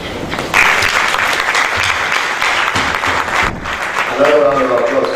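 An audience at a geography alumni lecture and award ceremony breaks into sustained applause, a dense, fairly loud wash of clapping, with a voice briefly audible near the end.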